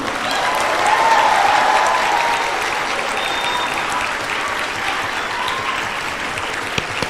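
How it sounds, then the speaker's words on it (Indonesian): A school audience at the SMK Telkom Banjarbaru class induction ceremony applauds the students' parents, with a steady, dense and loud wash of clapping that holds evenly for several seconds. "Berikan penghormatan dalam bentuk penghormatan berupa aplaus, ya, aplaus penghormatan untuk kedua orang tua kalian yang sangat meriah."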